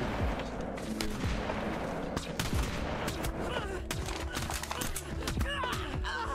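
Video game gunfire in a chaotic multiplayer firefight, continuous overlapping automatic shots and sharp single cracks at close and middle distance, steady and busy throughout.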